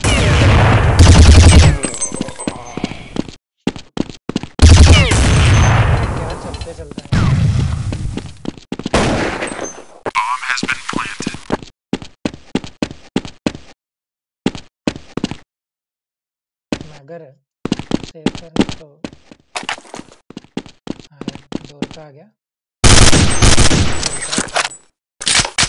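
Rapid gunfire in Counter-Strike 1.6 on the Dust 2 map, loud bursts and single shots in a stop-start rhythm with pauses between volleys, while players talk over the action.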